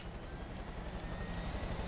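Helicopter rotor and engine drone from the video game Far Cry 5, a steady, fairly quiet low rumble with a broadband wash that holds even throughout, with no talk over it.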